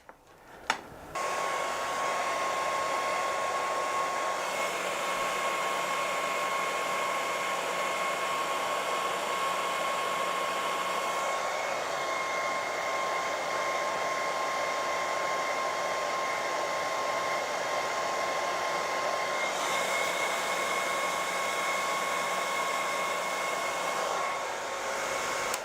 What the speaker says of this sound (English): What we're going to do is point the hairdryer at various bits and see if it spins in one direction or not.